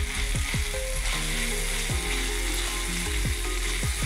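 Ginger, garlic, turmeric and curry leaves fry in hot oil in a pan, giving a steady close sizzle punctuated by several clinks and scrapes of a stirring spoon, with no talk.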